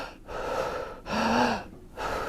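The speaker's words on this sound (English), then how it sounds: "take as deep a breaths as you can, and then you push it all out" Deep, forceful Wim Hof method breathing in repeated cycles, with a loud drawn-in inhale followed by a long push-out exhale, close and alone with no talking.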